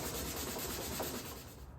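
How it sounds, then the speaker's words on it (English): Sandpaper of 100 grit rubbed by hand across a wooden outdoor side table, giving a steady, close, dry scratching that fades slightly toward the end, with no voices. "So I'm gonna come back through and give it a little bit of sanding, probably with 100 grit and then"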